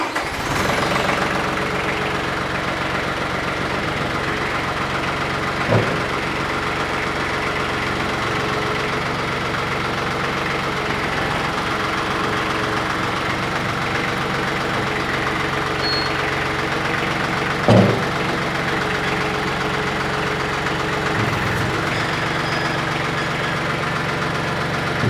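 A tractor engine running steadily while its front bucket is rolled, a constant idling rumble with a few short clanks and knocks.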